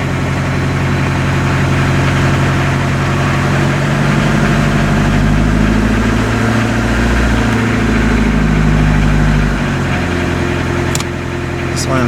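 A 1986 Ford Escort 2.0L diesel wagon idles steadily with a low, even rumble and vibration, rising slightly in the middle as the throttle is held, close and loud throughout.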